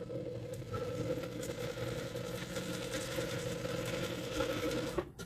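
A sewing machine runs steadily for about five seconds, top stitching along a fabric edge, with a continuous close mechanical whir and hum that stops abruptly near the end.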